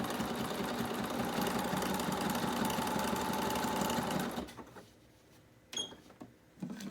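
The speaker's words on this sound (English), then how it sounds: "I just hit zigzag, and here we go. And I'm going to back stitch so that my stitches stay real well." A sewing machine runs a zigzag stitch on fabric for a steady four-second stretch, close and loud, then stops, leaving a few light clicks and handling sounds.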